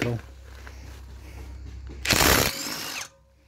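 A Parkside brushless impact wrench set to full 226 Nm power cracks loose a bolt tightened to 210 Nm, firing one loud half-second burst of hammering against a quieter background of low rumble and faint talk.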